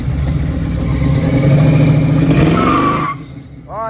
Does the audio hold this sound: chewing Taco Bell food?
no